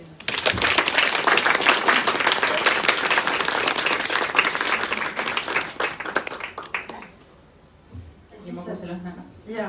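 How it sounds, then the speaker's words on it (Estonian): Audience applause at an Estonian book launch, a dense sustained clapping from a room full of people lasting several seconds before fading, followed by a voice speaking. "suur aplaus"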